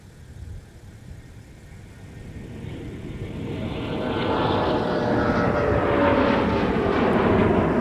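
An Airbus A321neo jet departing MSP airport, its engine roar swelling from a low rumble into a loud, sustained whine and rush as the aircraft accelerates, with no talk.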